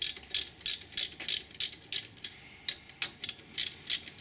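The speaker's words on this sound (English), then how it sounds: "Loosen the retaining bolts with a ratchet." Ratchet loosening the brake caliper retaining bolts on a Pontiac Bonneville during a front brake pad job, with a steady run of close, crisp clicking bursts in quick rhythmic strokes and no talk.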